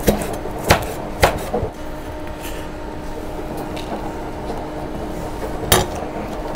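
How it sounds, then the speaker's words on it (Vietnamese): Knife slicing buffalo-horn chili peppers diagonally on a cutting board while preparing pickled chicken feet with lemongrass and kumquat; a few crisp, separate chops sound close by with quiet pauses between them. "Sừng trâu này mình cũng sắc xéo luôn nha các bạn."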